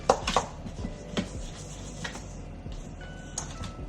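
A spoon scrapes and knocks against a bowl while mixing butter, giving a few sharp clicks and taps followed by quieter scraping, close and with no talking.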